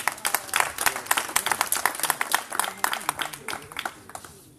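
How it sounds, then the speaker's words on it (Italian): An audience at a book presentation in San Giorgio applauds a speaker being introduced, with crisp, rapid clapping from a modest crowd, moderately close, that carries on steadily before fading near the end. "Un bel applauso"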